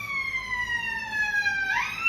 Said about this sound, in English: siren that I've heard this afternoon.